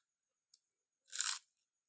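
Crunchy raw cabbage is bitten and chewed in one short, close, crisp crunch, preceded by a tiny click, in otherwise quiet surroundings.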